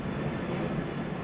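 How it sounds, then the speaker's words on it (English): A plane drones past overhead, a steady broadband rumble holding at even loudness throughout with no speech over it. "sorry about the plane."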